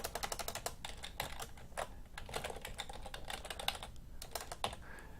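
Rapid, close keystrokes clatter on a computer keyboard as an email address is entered, forming quick irregular bursts of clicks with brief pauses in a quiet room.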